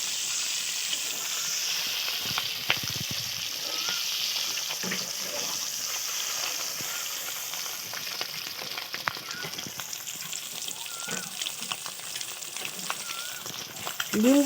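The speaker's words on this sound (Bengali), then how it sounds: "এইভাবে আমি নেড়ে চেড়ে ভেজে নেব।" Scored whole eggs fry in hot oil in a pan for egg curry as they are stirred, a steady close sizzle with occasional sharp utensil clicks and scrapes throughout.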